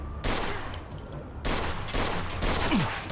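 Several gunshots in a Mafia II shootout ring out over a continuous ambient bed, with sharp bursts spaced through the clip and a louder volley near the end.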